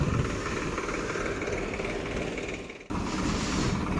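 A Swaraj 744 XT tractor runs steadily with a spray pump machine attached, giving a continuous rumbling drone broken by a brief dip before resuming, close by and without talk.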